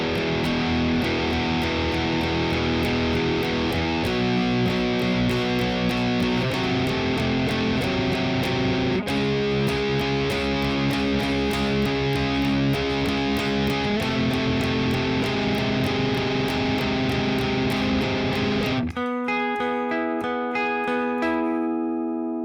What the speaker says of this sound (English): we're going to switch to a completely clean guitar tone